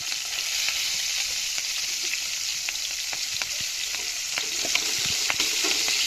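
Chopped garlic and halved green chillies frying in oil in a pan, a steady loud hiss of sizzling throughout with faint crackles and pops, close up and with no voices.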